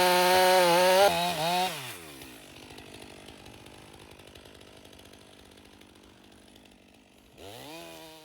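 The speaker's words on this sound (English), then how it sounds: "we are running this STIHL 500i in wood for the first time" A STIHL 500i chainsaw revs high and loud, then drops into a lower, labouring drone as it cuts through wood for several seconds before screaming back up to full revs.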